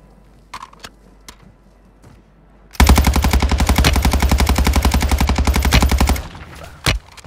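Sustained automatic gunfire in Call of Duty Warzone 2.0, a loud unbroken burst of about three and a half seconds from a new Season 3 weapon, with a few isolated shots before and after it.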